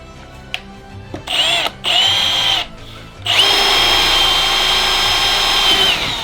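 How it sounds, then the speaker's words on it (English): Power drill boring a hole through wood while building homemade wooden gymnastic rings, several short bursts then one long sustained whining run, loud and close with no talk. "To start the middle, I'm going to need to drill a hole first."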